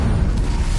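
An Incendio fire spell in Hogwarts Legacy, producing a brief, loud, low roaring whoosh of flame that holds steady for under a second.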